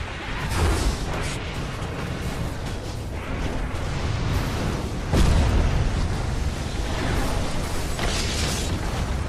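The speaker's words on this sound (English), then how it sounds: "Dire's bottom tower is falling" A Dota 2 tower collapses in a dense, continuous roar of crumbling and explosive bursts, loud and close throughout, with a sharper impact swelling near the middle.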